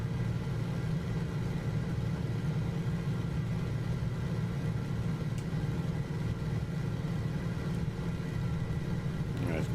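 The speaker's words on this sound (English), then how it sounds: "But you can just hear more engine when you go like that." A steady aircraft engine drone in Microsoft Flight Simulator hums evenly at moderate volume with no voices, holding a constant low tone throughout.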